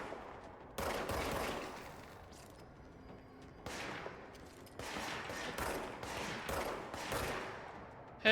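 Repeated bursts of gunfire from enemies in the video game Control, several separate volleys of rapid shots at moderate distance, with quieter gaps between the bursts.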